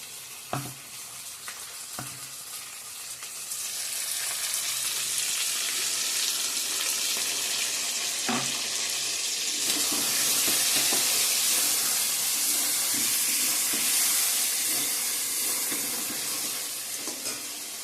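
Powdered spices and tomato paste frying with marinated chicken in a pan, a loud, continuous hissing sizzle that builds after a few scraping stirs and holds steady with occasional spatula knocks, close up and without talk.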